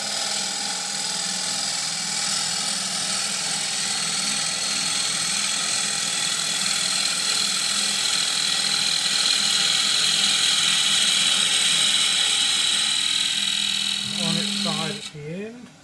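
A lathe gouge cuts into spinning oak while turning a treasure box, giving a steady, continuous, loud whirring scrape that runs unbroken before cutting off near the end.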